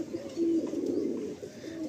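A Madrasi pigeon in a loft in Garia gives a steady, low, rolling coo lasting most of the moment, fairly close and quiet, with no one speaking.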